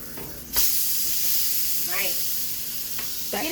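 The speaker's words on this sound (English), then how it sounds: "Well, I will, since the cheeseburger is cooking." A cheeseburger patty frying in a pan gives a loud, continuous sizzling hiss close by, with a few brief scraping or stirring sounds and faint voices in the background.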